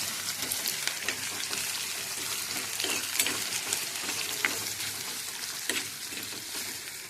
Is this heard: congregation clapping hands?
no